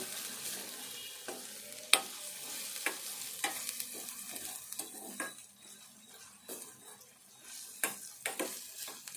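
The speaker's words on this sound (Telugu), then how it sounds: "ఈ పచ్చికారం అయితే ఇట్లా వేగాలి" Green chili paste sizzles in oil for a chicken tempering dish, a steady close frying hiss broken by repeated sharp scrapes and clinks of a spoon stirring against the pan, with no talk.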